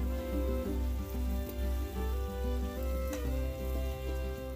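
Vegetables fry over a wood-fired clay stove with a constant close sizzle and hiss, plus a soft regular pulsing underneath and one brief sharp clink partway through.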